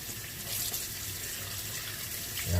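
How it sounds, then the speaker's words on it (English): A cucumber being washed under a running kitchen tap, a steady close hiss of flowing water splashing in the sink for a few seconds with no talk. "I'm washing this cucumber off because with the Rona out there"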